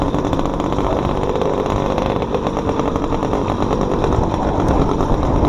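A quad bike engine drones steadily and loudly throughout, a rough continuous motor rumble close by with no pauses.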